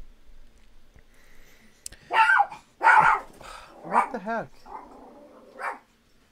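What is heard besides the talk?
dog barking next to the microphone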